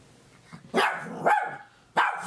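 A dog barks close by in three sharp, loud barks separated by short pauses, each bark rising and falling quickly against a quiet indoor background.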